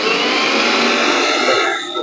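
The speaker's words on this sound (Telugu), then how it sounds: "మెయిన్ వైర్లో పెట్టి చెక్ చేద్దాం ఎలా ఉందన్నది మిక్సీ." A refitted mixer grinder motor runs steadily at full speed, a loud continuous whirring roar with no talk over it, easing slightly near the end.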